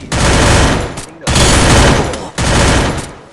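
Gunfire in the mobile battle royale game Free Fire, three loud rapid bursts of automatic shots, each about a second long, separated by brief gaps.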